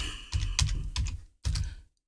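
Typing on a computer keyboard during a live Command & Conquer Generals Zero Hour tournament stream: quick bursts of close, clicky keystrokes in uneven clusters, pausing briefly before a final short flurry, then silence.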